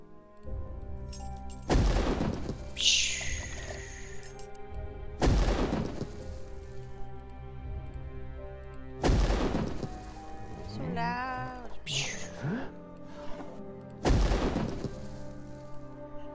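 Fireworks burst in the Beholder video game, four loud booms spaced several seconds apart with brief crackling and whistling in between, all over a steady game music bed.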